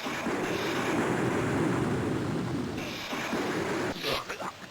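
Rain and thunder in the Amiga game Myth: History in the Making, a sustained stormy hiss followed by a few sharp crackling bursts near the end, fairly faint overall.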